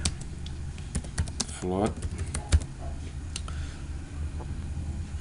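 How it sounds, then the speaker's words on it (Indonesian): Numbers are tapped out on a computer keyboard in scattered, close, crisp clicks with uneven gaps, while a person speaks briefly over a faint background hum. "Kita ketikkan dulu angka ya."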